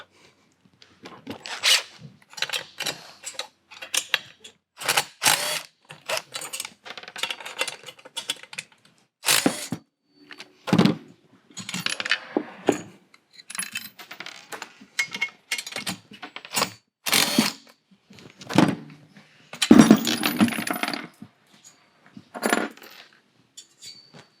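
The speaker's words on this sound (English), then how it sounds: "So 11 millimeter wrench and drill bit will do the job." Repeated metallic clicks and clanks of an 11 mm wrench and drill removing bolts from a reverse osmosis water system's housings, sharp irregular bursts separated by brief pauses, close up with no talking.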